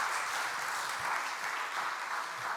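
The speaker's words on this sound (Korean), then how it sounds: "우리 전사님 박수 드리고 한번 우리 은혜 받도록 합시다." Congregation applause during a Wednesday night church service, a short, even patter of clapping from a modest crowd, slightly distant, with no talk.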